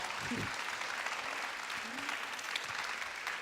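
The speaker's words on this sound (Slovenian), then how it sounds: "Dajmo en aplavz." Audience applause at a panel discussion during a social media conference, a steady wash of clapping filling the room, with faint voices underneath.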